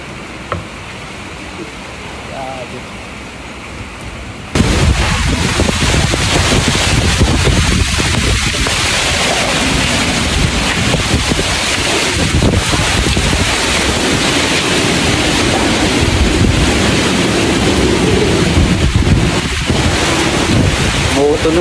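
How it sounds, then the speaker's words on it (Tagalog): During a typhoon, a strong gust hits the microphone after a few quiet seconds, then a loud continuous roaring buffet of wind persists throughout, with faint voices underneath. "Tunog, umuugong guys. Gawa ng malakas ang hangin."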